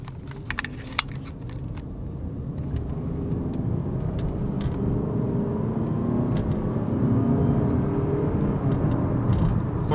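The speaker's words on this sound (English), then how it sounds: "I'm going to turn back here and drive at a higher rate of speed" A 2014 Toyota RAV4 LE AWD with 66k miles cruising at higher speed, heard from inside as a steady, full road and engine rumble that grows slightly louder, with a few light clicks near the start.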